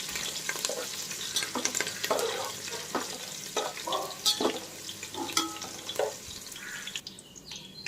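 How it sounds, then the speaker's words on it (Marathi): Green chillies fry in hot oil in a pan for poha chivda, giving a steady crackling sizzle close by, broken by clinks and scrapes of stirring. "मिरच्या देखील चांगल्या तळायच्या आहेत, त्यामधलं मॉइश्चर गेलं पाहिजे."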